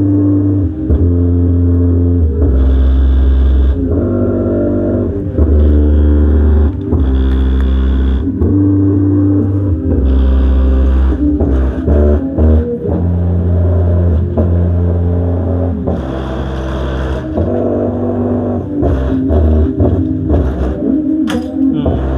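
A subwoofer vibrating hard gives a loud, deep, pulsing bass rumble with shifting tones that carries on without a break. Faint rattles of nearby objects sit on top of it.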